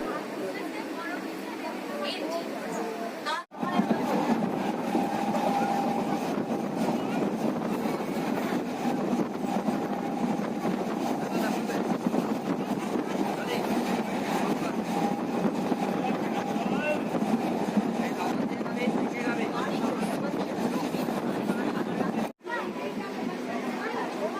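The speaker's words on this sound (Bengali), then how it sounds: "এই মুহূর্তে আমাদের ট্রেন শীতলপুর স্টেশন থেকে ছেড়ে যাচ্ছে" Local train on the Santragachi to Digha line pulling out of a station, a steady loud rumble and rattle of the carriages running on continuously for about twenty seconds, with faint chatter inside the coach.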